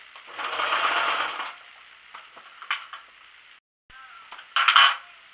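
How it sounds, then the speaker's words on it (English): Sewing machine stitching the neckline of a blouse, a steady whirring run for about a second and a half, then short bursts and clicks of stopping and adjusting, ending in one more brief loud burst. "So I finished sewing the neck."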